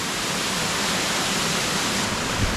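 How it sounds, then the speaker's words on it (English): A powerful rainforest waterfall in the Catlins, New Zealand, flowing strongly even in the dry season, makes a dense, loud, unbroken roar of falling water that fills the whole short stretch with no voices. "amazing waterfall. There's plenty of flow coming out of it."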